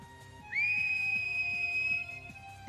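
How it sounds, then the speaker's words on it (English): A single hard blast on a whistle sounds in the Steam Prison video game. The steady, piercing tone holds for about a second and a half over soft background music. "I took my whistle and blew as hard as I could."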